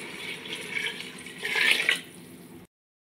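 Water is poured into a cooking pot holding sautéed banana flower for a rice biryani, a steady splashing trickle that swells briefly before stopping abruptly.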